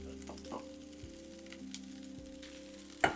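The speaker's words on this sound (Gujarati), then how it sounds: "હવે આની અંદર આપણો સરસ મજાનો કૃષ્ણ કમોદનો બ્લુ રાઈસ આની અંદર એડ" Krishna Kamod blue rice, tinted with aparajita flowers, goes into a hot pan and sets off a soft, close sizzle that runs steadily, ending with a small clink.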